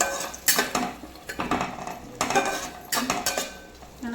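A spoon scrapes and clinks against a metal pot while spices are stirred into a gongura chicken curry, with separate bursts of stirring and short pauses between them.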